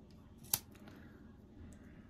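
Scissors make a single crisp snip through crochet yarn at close range, a sharp isolated click against an otherwise quiet room.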